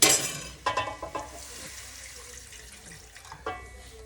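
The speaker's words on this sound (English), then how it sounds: "So now we just add our water directly onto the curry chicken." Water poured into a pot of Jamaican curry chicken, a faint splashing stream with a few louder gushes and sizzling, near and without talk.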